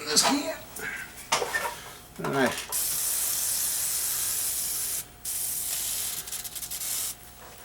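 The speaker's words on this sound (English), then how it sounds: "Spray it clean." A few bursts of speech, then a long steady hiss of aerosol cleaner sprayed on a motor part near a bearing, briefly interrupted and resumed, with another short spray near the end.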